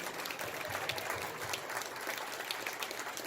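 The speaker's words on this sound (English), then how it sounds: "Let's give Yorm Solomon a round of applause" Round of applause from an audience at a campaign kickoff event, a steady dense patter of clapping that holds at an even level throughout, with no talk over it.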